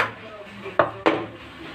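A kadhai set down on a gas stove makes two sharp metallic clanks close together, with a soft scrape before them.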